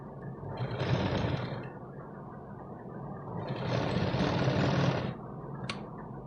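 A sewing machine double-stitching the seam joining the back panel of a katori-style blouse, running in two short bursts of rapid whirring with a brief pause between them, close and fairly quiet.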